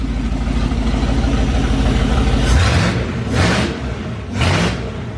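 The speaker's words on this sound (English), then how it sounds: "Let's give her one more little rev." A 440 big block V8 in a 1970 Plymouth Duster muscle car idles loudly up close, then revs in three quick, rising blips that drop back to a rumbling idle.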